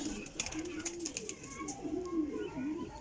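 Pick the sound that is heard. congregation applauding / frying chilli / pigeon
pigeon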